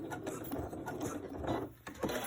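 Sewing machine stitching elastic into a pleated seam, giving a close, rapid mechanical chatter of stitching with brief pauses, with no voice over it.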